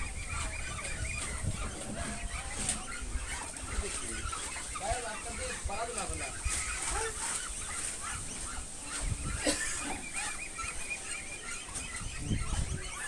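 Chinese ducks at a farm with a cholera vaccination under way give dense, continuous honking and squawking calls, near and fairly loud, under a steady noisy background with occasional voices.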